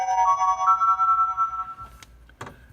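An Avaya 9621G desk phone ringtone plays a sustained electronic melody of steady tones for nearly two seconds, followed by a couple of brief clicks, heard clearly and alone.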